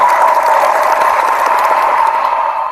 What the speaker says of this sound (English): We give you a round of applause for that